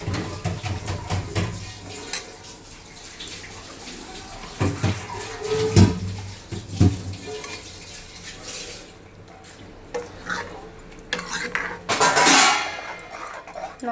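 A spoon stirs henna and other herbal powders into oil simmering in a pan for homemade hair oil, giving intermittent scraping and clinking against the pot over a low background hiss.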